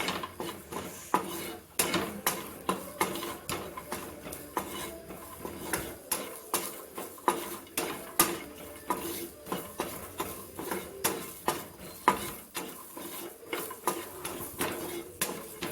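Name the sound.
okra and potato curry stirred and fried in a pan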